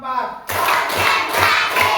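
A classroom of students claps hands together in a counting clap game, several sharp group claps in a steady rhythm close by, mixed with children's voices.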